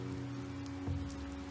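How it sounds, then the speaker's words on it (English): Steady rain gives a dense, continuous patter and hiss over a low, constant hum, even and unbroken throughout with no voices. "The clouds convulsed and began to drip, and it was then raining."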